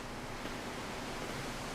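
Steady wind rushes outside, a continuous hollow roar that never lets up, with no voices, in the video game Slender: The Arrival.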